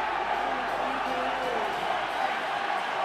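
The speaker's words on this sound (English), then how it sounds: "The Kenyan crowd contends victory here." A crowd at a Kenya versus Uganda rugby match in the 2018 Elgon Cup roars in a steady, loud wash of cheering, with a commentator talking over it.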